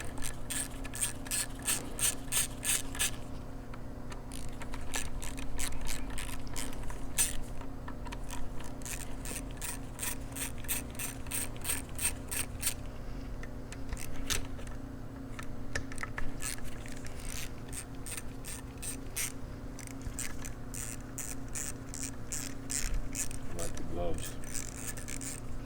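Ratchet fitted with a Torx bit backing out the four small bolts on a Harley-Davidson rubber-mount Sportster bottom end, heard as repeated bursts of rapid, close mechanical clicking over a steady low hum.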